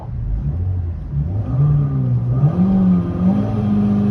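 A 2022 Renault Duster's engine pulls and revs while driving, a loud, close hum that climbs in pitch, steadies, then rises again over about four seconds with no talking.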